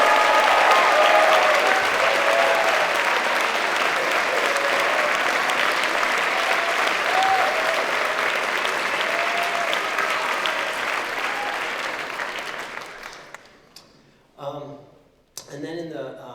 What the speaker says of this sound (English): Please give a round of applause for Christian Terrell.